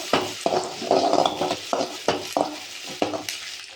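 Mustard seeds, curry leaves, finely chopped onion and green chilies fry in hot oil in a kadai, with repeated sharp clinks of a spoon stirring against the pan over a steady close sizzle, no talking.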